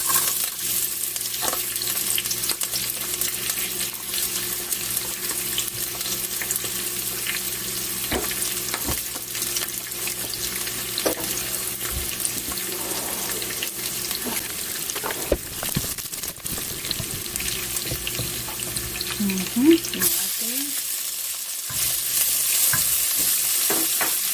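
Garlic fries in oil in a pan for carbonara, a steady close sizzle with occasional stirring scrapes, then a brief louder shuffle and clatter near the end, no talking.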